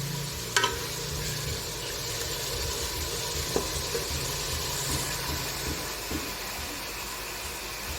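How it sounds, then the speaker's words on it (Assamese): Pieces of local chicken sizzling and being stirred in a hot pan, a steady, dense frying hiss with occasional clinks of a utensil against the pan throughout. "অলপ মাংসটো ভুনা হৈ যাওক"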